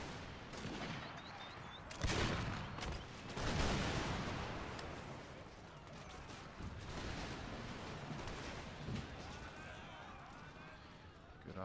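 Cannon and massed musket volleys from the battle game Empire Total War, a dense, continuous crackle of distant gunfire with heavy booms around the start and middle, and voices talking now and then over the din.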